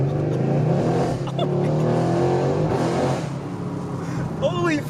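A Subaru WRX accelerates and revs hard from inside the cabin, the engine note rising under excited voices, with a brief squeal-like tone near the end.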